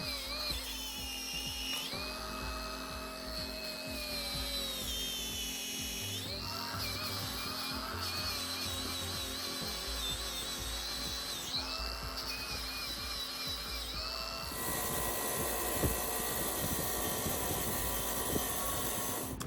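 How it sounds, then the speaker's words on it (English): Cup wire wheel on a power tool scrubbing rust from a metal Craftsman 51871 bench vise, a steady loud whine with shifting pitch and rough scraping, changing tone as it bites, then a harsher gritty grind near the end. "Some areas were hard to get to, so I used a cup wire wheel."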